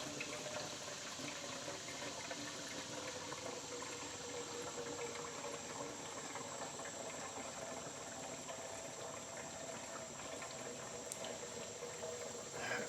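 Gasoline pouring from a gas can into the fuel tank of an Atlas shredder, a continuous gurgling liquid stream that stays steady and moderately faint throughout.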